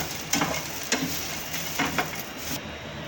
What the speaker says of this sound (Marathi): आता अर्धी वाटी शेंगदाणे टाकून घ्यायचे आणि शेंगदाणे आणि हे दोन्ही मिक्स भाजायचं